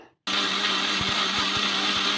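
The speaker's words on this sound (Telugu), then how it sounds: "మూత పెట్టేసుకొని మిక్సీ పట్టేసుకుందాం ఇంకా" A mixer grinder blends leftover rice into idli batter, starting abruptly after a brief pause and then running as a loud, steady, close whirring drone.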